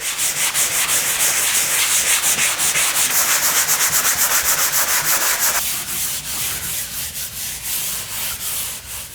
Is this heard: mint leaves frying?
no